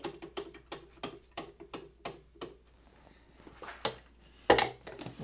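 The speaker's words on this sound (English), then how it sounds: "I need to set my timer again." A film developing timer ticks in a quick, regular rhythm for a few seconds, then stops, followed by a couple of sharper clicks and a clatter.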